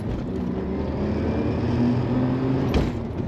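A 1992 Lotus Carlton engine pulling hard in first gear, a steady rising drone that builds in pitch, close and fairly loud.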